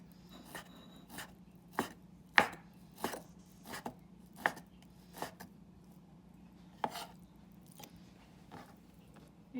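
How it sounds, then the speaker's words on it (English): Knife slicing pork tenderloin thinly on a board, a series of crisp, evenly spaced chops, about a dozen strokes, close and quiet with no talk. "I cut the tenderloin into half and then cut it this way. So it will be thinly sliced."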